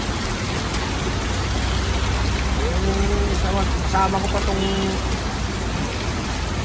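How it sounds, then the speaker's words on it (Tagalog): Heavy rain pours down outside a shop during flooding, a loud, constant hiss of downpour filling the whole scene while people talk briefly over it. "Lakas ng ulan."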